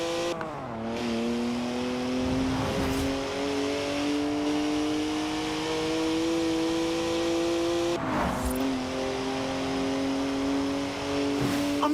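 BMW 1M engine in Forza Horizon 4, revving up through the gears with clear rising tones, a sharp upshift dip around the middle and another gear change later, loud and close with no talk over it.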